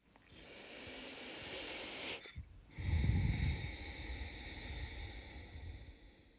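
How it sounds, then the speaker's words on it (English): Slow, deep ujjayi yoga breaths drawn through a constricted throat give a soft, rushing ocean-like hiss, first an inhale, then a longer, rougher exhale, close and quiet. "make this breath sound a bit like a wave, which is called the Ujjayi ocean breathing breath"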